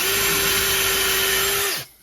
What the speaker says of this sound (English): Drill a hole in each corner.